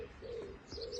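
Birds coming back to their nests at dusk give soft, dove-like cooing with a thin chirp on top, brief and fairly close.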